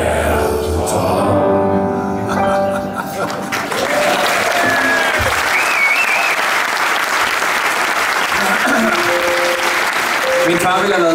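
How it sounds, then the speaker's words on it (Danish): A concert audience gives loud, dense, continuous clapping that fills the whole stretch, mixed with fading music at the start and a few scattered crowd voices. "I skal ikke klappe for længe"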